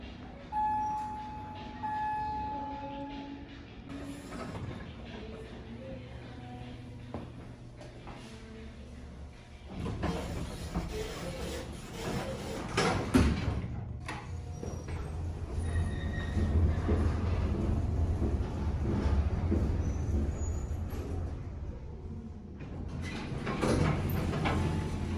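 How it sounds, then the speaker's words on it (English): Vintage 1940s department store elevator in Pasadena, with a steady low mechanical rumble of the car running and the clatter and slide of its doors, moderately loud and continuous with faint room noise. "we just gotta appreciate these elevators one more time."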